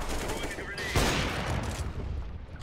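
Rapid spam gunfire in the game CS:GO, a burst of gunshots crackling over busy in-game ambience with a sharp loud hit near the middle.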